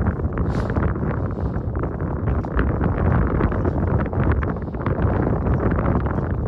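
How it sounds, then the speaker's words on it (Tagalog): Strong wind buffets the microphone in heavy, continuous low rumbling gusts, loud and close throughout. "Lakas ng hangin."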